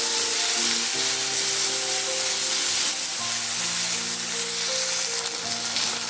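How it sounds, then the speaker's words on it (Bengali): Chopped onions frying in oil seasoned with bay leaf and whole cumin, giving a continuous close sizzle that holds steady throughout with no voices. "পেঁয়াজগুলো ভেজে নিচ্ছি।"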